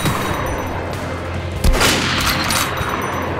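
Rapid bursts of gunfire from Metro: Last Light Redux go off in a steady fusillade, with one sharp, heavier boom in the middle and continuous shooting around it at close range.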